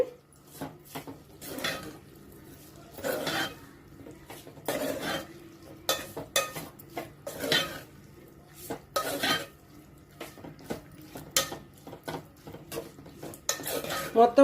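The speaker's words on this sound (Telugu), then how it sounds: "మొత్తం వేసి ఒకసారి బాగా కలపండి" Broad beans with onions, salt and chili are stirred in a pan, with a spoon scraping and clinking against metal in irregular bursts over a faint sizzle, close up, with no talking.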